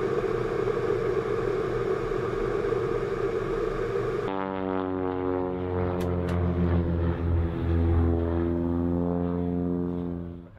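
An Italian-designed military training propeller aircraft, built 1957–1961, flies at an airshow, a loud droning propeller hum that shifts to a steady harmonic tone as it passes, alone without talk.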